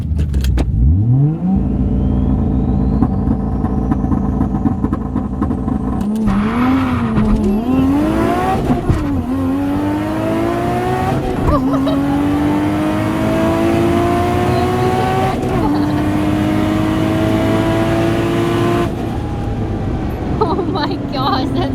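An RB25DET-powered 180SX drift car revs hard, shifts and accelerates through repeated rising engine pulls with tire squeal as it skids, loud from inside the car, with people talking over it.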